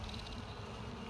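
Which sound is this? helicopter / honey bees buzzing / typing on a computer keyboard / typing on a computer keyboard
honey bees buzzing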